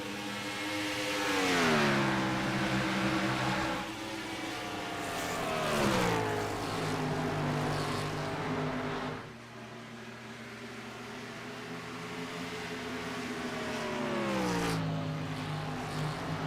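Engines of racing cars in a racing video game drone loudly, their pitch sliding down repeatedly as they ease off the throttle through turns, then rising again; no talking.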